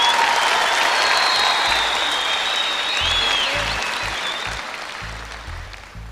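Concert audience applauding as an Uzbek folk artist is invited onto the stage, a loud, dense clapping from a large crowd that slowly fades toward the end.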